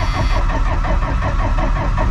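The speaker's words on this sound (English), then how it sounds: "I've tried cranking on it a couple times and it's not starting" A dead machine engine with jumper cables attached cranks over without catching, a loud, rhythmic starter churn with pulsing low chugs repeating steadily and close up, no talking.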